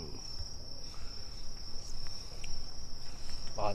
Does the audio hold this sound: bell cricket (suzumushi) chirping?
yes